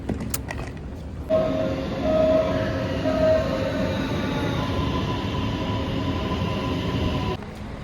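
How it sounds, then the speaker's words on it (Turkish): Metro train ride in Ankara, a steady rumbling cabin drone with rolling wheel noise that swells and settles, faint tonal whines on top and no talking. "İki tane metro değiştirdik."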